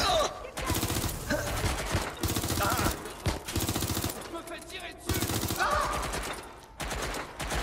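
An MP5 submachine gun fires in bursts in Watch Dogs Legion, loud rapid automatic volleys separated by brief pauses, with no talking.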